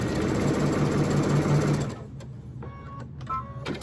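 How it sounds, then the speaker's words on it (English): A sewing machine stitches a half-inch seam on fabric strips for a scrappy rag quilt pillow cover, running in a steady close whir for about two seconds before stopping, followed by faint handling clicks. "I'm just going to sew down a 1/2 inch."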